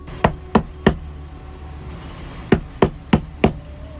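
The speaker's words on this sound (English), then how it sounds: "I was totally in my own world when I heard an alarming knock." Knocking on a camper door at a campsite: two bursts of sharp knocks, three then four, loud and close with a pause between.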